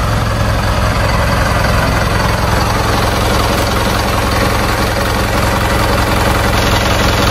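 A truck engine imported from Japan idles steadily and loudly up close, a constant low rumble with even mechanical vibration and no pauses throughout.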